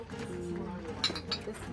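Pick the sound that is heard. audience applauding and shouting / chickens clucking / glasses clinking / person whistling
glasses clinking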